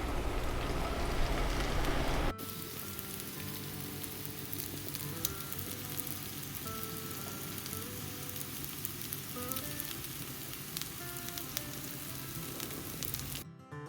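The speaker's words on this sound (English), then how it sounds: "So we're going to just saute these for 3 minutes on each side" Food sizzles steadily in a hot pan while meatballs for Italian wedding soup sauté, a dense crackling hiss that runs loud and close for the whole stretch, with no talking over it.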